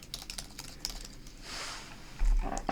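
Quick keystrokes on a computer keyboard entering a website address, a light irregular patter of close clicks over a couple of seconds, alone without talk.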